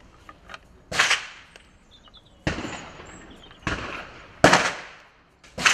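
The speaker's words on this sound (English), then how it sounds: "These are just moderating the noise from the rifle, the muzzle blast." A suppressed deer rifle fires several times outdoors, each moderated shot a sharp crack with a short rolling echo, spaced a second or so apart and loud against a quiet background.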